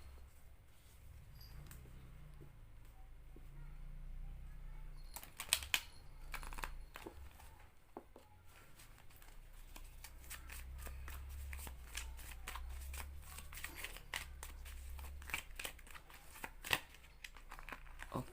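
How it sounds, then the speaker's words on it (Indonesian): Tarot cards being shuffled by hand: soft, repeated riffling and flicking, quiet at first, then a run of crisp, rapid card slaps and shuffles up close, with no talking. "Oke, langsung saja kita shuffle kartunya."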